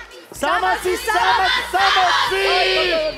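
A live television concert audience roars with loud, sustained cheering and yelling, many voices shouting together in overlapping bursts.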